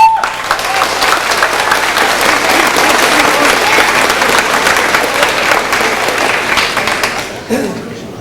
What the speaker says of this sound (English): Big round of applause from Saskatoon, Mr. Ben Beveridge.